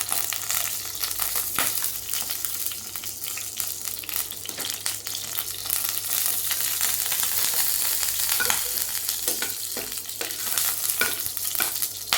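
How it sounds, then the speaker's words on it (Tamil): Continuous sizzling and crackling of cinnamon, cardamom and curry leaves tempering in hot oil, close and fairly loud, with occasional stirring scrapes and pops throughout. "இப்போ தாளிக்க போகிறேன். ஏலக்காய் போட்டு தாளிக்கணும்."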